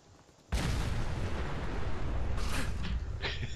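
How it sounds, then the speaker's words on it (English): Explosions in the video game Fallout 4 erupt abruptly into a loud, sustained roar of blasts and rumbling debris, with a second burst layered over the continuing din and no talk. "Here's double explosions."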